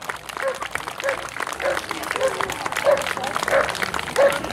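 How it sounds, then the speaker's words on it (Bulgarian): A crowd applauds steadily at a dog protection demonstration in Bulgaria, while a dog barks sharply about seven times at an even rhythm over the clapping. "Аплодисменти за Алексей Зеленяк и куче Бас."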